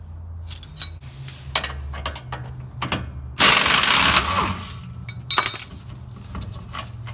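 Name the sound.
removing shock absorber bolt with 21mm socket and wrench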